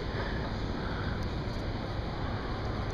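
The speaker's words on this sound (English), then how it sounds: "General Electric 90 turbofans. See, that's a distinctive noise it makes on a 777." General Electric GE90 turbofan engine on a Boeing 777 producing a constant broadband roar with a faint high whine on top, loud and unbroken across the whole stretch, with no other sounds standing out.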